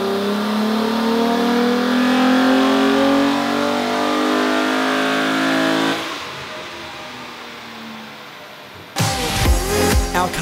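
Nissan 350Z on a dynamometer with nitrous, its engine revving hard in a loud, rising sustained pull for about six seconds, then dropping to a lower idle before a sharp burst of noise near the end.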